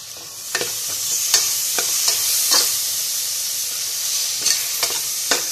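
Tomato goes into a pan of vegetable biryani masala with a steady sizzle, broken by repeated sharp scrapes and clacks of a spoon stirring against the pan.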